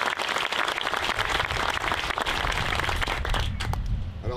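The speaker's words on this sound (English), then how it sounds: "If I could get a round of applause for them." Steady applause from a military ceremony audience for the 2nd Marine Division Band at a U.S. Marine Corps 2nd Marine Logistics Group relief and appointment, dense and continuous clapping throughout, easing slightly near the end.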